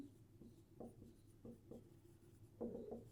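Pen or pencil writing out a maths solution on paper, soft scratchy strokes in short bursts with brief pauses, close and quiet, with no talking.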